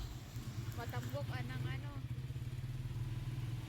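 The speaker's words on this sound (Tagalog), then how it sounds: "yung kalaskas ng tricycle, maingay" A motorized tricycle on a noisy ride gives off a loud, steady engine drone with rattling throughout, and voices talk over it most of the time.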